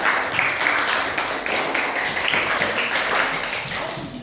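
A classroom of students claps for a student group, a steady patter of many hands with a few scattered voices mixed in.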